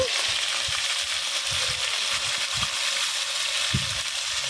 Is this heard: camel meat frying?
yes